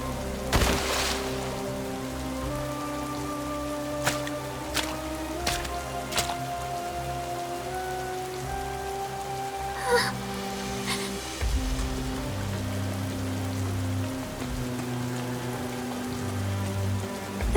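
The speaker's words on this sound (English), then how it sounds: "What the? It's raining." Steady rain pattering on surfaces in the video game Goddess of Victory NIKKE, a continuous soft wash of drops beneath sustained game music with a few tonal accents.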